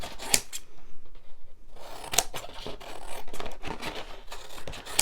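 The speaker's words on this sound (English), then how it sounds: "I'm going to trust myself to cut them with the scissors." Repeated crisp snips and rustling as scissors cut through paper tags, irregular bursts close to the microphone with handling noise between.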